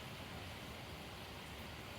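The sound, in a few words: creek water rushing in culvert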